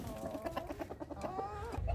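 Aseel chickens kept as pets in Punjab cluck close by in a rapid, uneven series of short calls, with a rustle of movement at the end.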